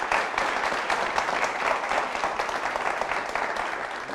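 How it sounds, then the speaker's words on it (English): A studio audience at a televised debate gives steady, dense applause with many hands clapping throughout, sustained at an even level. "Round of applause for Kunu."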